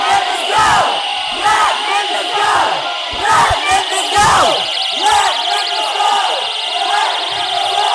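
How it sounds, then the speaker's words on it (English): A crowd in the Tennessee legislature chamber booing and yelling, loud repeated surges of shouting voices rising and falling over several seconds. "I'll show you how the people were just booing"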